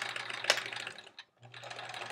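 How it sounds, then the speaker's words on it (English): A home sewing machine chain-pieces quilt blocks, a fast steady whirring stitch close by that pauses briefly between pieces before resuming. "Chain piecing is where you just sew the next block right after without stopping your sewing machine"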